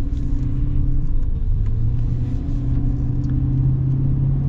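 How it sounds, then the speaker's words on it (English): Deep, steady rumble of a 2023 Chevy Silverado HD 6.6L gas V8 pickup engine idling and lightly revving, a low throbbing drone heard up close with no one talking. "It's unlike the sound of pretty much any other V8 I think I've ever heard."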